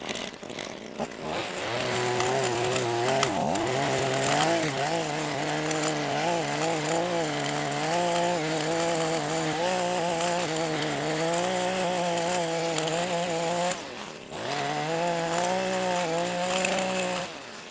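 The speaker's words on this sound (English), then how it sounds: "I'm gonna edge this stuff up real quick" A small gas-powered lawn edger trims grass with a loud, close, steady engine drone that wavers slightly in pitch, then briefly drops off near the end before picking back up.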